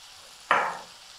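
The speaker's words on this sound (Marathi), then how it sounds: "याला चांगलं 2-3 मिनिटं परतून घ्यायचं" Sprouted mixed legumes hit a hot pan with a single sharp sizzling burst that flares for a fraction of a second and quickly dies back to a faint background hiss.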